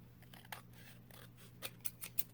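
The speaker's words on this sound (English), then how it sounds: "I'm going to take my scissors" Scissors snipping through paper while scrapbook tags and card tucks are made, a few quiet crisp cuts heard close by over a low background hum.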